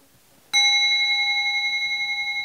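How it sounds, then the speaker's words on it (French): A single meditation bell is struck once, ringing out clear and close, then sustaining a long, slowly fading shimmering tone in a quiet room. "Ce son merveilleux Cette cloche."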